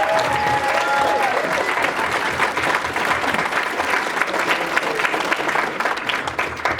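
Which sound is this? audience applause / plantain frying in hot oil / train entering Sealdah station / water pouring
audience applause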